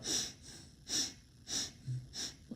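Breaths sniffed sharply through the nose during a circular breathing demonstration, four quick, close inhalations at a steady rhythm about half a second apart, with no talking.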